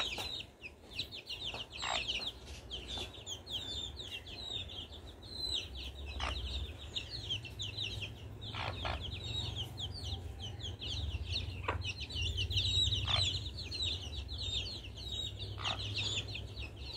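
Domestic country chickens cluck and chirp repeatedly while being fed flour, their short calls coming in scattered bursts over a low, steady background hum.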